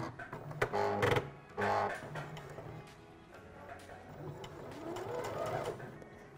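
A sewing machine with a knit needle runs a straight stitch along a knit neckband, two close bursts of rapid mechanical chatter followed by slower, quieter stitching.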